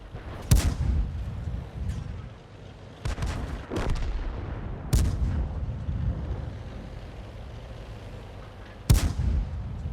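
A-46 tank cannon firing in a video game, several heavy booming shots spaced a few seconds apart, each with a sharp crack and rumbling tail, loud and close over continuous engine drone.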